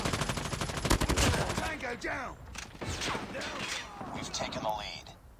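Shots from a small mini pistol in Call of Duty Mobile ring out as sharp, close bursts of gunfire, thickest early on, while someone talks over them almost throughout.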